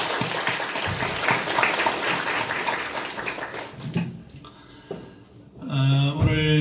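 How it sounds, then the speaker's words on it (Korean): A church congregation applauding children during a family Sunday service: dense sustained clapping for several seconds, thinning out and giving way to a voice and music near the end. "우리 다시 한번 자녀들을 향해서 격려하는 박수 한번 드리겠습니다."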